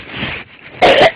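A woman gives a short rough throat-clearing rumble, then a single sharp cough close to the microphone, all within about a second.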